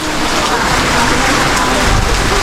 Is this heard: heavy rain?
yes